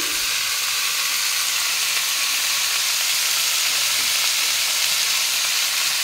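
Steady, close sizzling of cumin and chillies frying in a pan, crackling continuously without pause.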